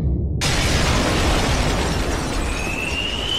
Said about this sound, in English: The glass window's all shattered!